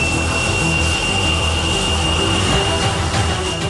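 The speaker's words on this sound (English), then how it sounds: "the canopy is lowered and the jet's American F404 engine is powered on" A Tejas light combat fighter jet with an American F404 engine runs and taxis out, giving a steady, loud, dense roar with a constant high whine, heard close from the cockpit with no talking.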